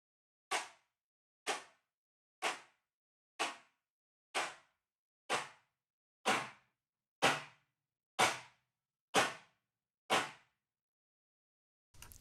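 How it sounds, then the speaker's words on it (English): Eleven evenly spaced handclaps, about one per second, each with a short splash of room reverb from a Sound City Studios room emulation, crisp and alone. "Sound City Studios. This is a really cool room as well for claps."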